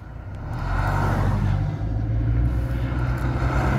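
Steady, loud road rumble of a car driving on a Colorado highway toward the Eisenhower Tunnel, with deep low engine and tire drone holding constant throughout and no talk.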